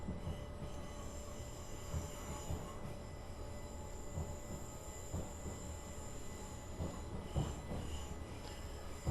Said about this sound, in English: London Victoria to Brighton Fast with an Electrostar Class 377.